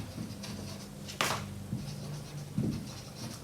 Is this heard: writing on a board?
yes